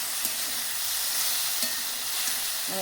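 Okra sizzles in hot oil with mustard and poppy seed paste, a steady close hiss with small pops and crackles throughout.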